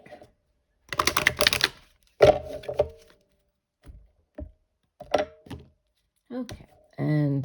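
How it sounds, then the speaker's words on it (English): A deck of oracle cards shuffled by hand in several bursts of riffling and tapping, close and fairly loud, separated by short pauses, with a brief spoken word near the end. "And we're going to shuffle the deck."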